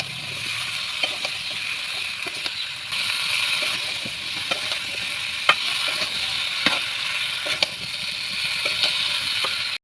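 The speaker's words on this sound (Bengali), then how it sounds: "চাল কুমড়োগুলো দিয়ে ভালোভাবে নেড়েচেড়ে মিশিয়ে নিতে হবে।" Chopped ash gourd is stirred into a frying spice paste, a continuous hiss and sizzle with intermittent scraping stirs and small knocks close by, steady throughout without speech.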